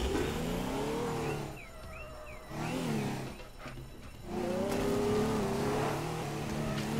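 Fast car driving in the video game Teardown: a loud, steady engine roar with rising and falling revs and whining pitch sweeps, dipping briefly in the middle before surging back up to full volume.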